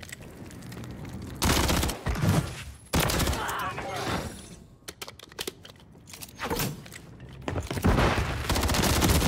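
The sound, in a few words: SMG gunfire in video game Modern Warfare 3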